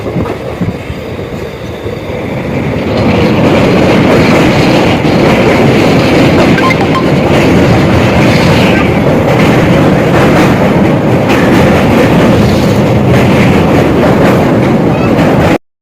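Naunchandi Express, a 14242 sleeper-coach train, runs past Garhmukteshwar Bridge station without stopping: a loud, steady rumble and rattle of wagons and wheels that swells after two seconds and holds, with faint talk underneath.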